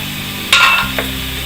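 Moringa flower qeema with red chili, salt and turmeric is stirred in a hot pan: a brief, close scrape and sizzle bursts in midway over a low background hum, followed by a second, smaller scrape.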